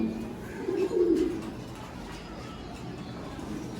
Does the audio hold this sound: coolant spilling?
no